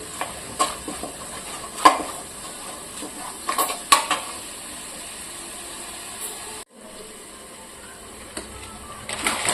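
Cauliflower fried rice ingredients stir-fry in a pan with a soft continuous sizzle, punctuated by sharp metallic spatula scrapes and clinks against the pan, plus a brief pause near the end.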